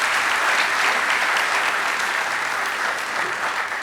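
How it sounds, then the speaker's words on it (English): An audience at a TiE event gives a round of applause for the TiE team, a dense, steady wash of clapping from many hands that holds throughout. "I think you deserve one good round of applause for the entire team of TiE."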